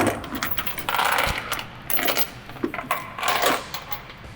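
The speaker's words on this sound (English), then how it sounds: "So then I'll take my chain, my ratchet binder, connecting it to the chain down here, and I'll pull the chain tight." Steel load chain clinking and rattling in short metallic bursts as a ratchet binder draws it tight on a hauled load, the clanks close and irregular with brief pauses between pulls.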